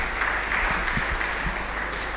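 Audience applause at an academic event on artificial intelligence in healthcare, a steady, fairly quiet patter of clapping that carries on for the whole moment with no speech over it.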